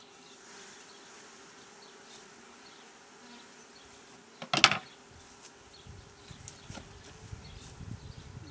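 Honeybee swarm being caught from a bee box and moved into a Warré hive, a steady close buzzing hum throughout with a sharp knock or bump midway.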